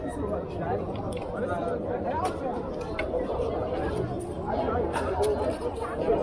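Steady crowd chatter and babble from a large, congested gathering at a busy spot on an Egyptian street, dense overlapping voices close by with no clear single speaker, continuous throughout.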